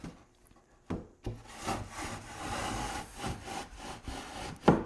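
Solid wooden door panels scrape and rub as they slide down into a wooden frame, with a couple of soft knocks and a firmer thud at the end, heard close and fairly quiet.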